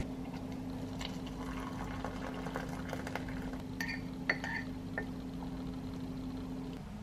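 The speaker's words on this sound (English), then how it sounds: "Kettle just finished boiling." An electric kettle boiling water for tea rumbles with a steady bubbling hiss and a constant low hum, with a few sharp clicks and clinks near the end.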